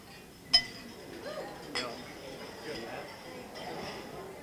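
A couple of light glass clinks during a best man's wedding toast, one sharp ring early and a softer one a second later, faint under ongoing speech in a reception room.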